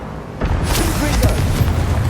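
Confringo blasting spell going off in Hogwarts Legacy on PS4, a loud broadband boom with crackling bursts that lingers for about two seconds, layered over game effects and faint voice.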